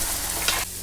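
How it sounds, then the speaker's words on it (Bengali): Gram flour kachori deep frying in hot oil, a loud, steady broadband sizzle with a brief flare near the middle before it drops quieter toward the end. "এইভাবে আমি সবকটা কচুরি ভেজে রেডি করে নিচ্ছি"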